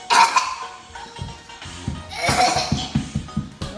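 Short coughs from a child and an adult at home, a few close bursts early and late, mixed with light giggling and talk.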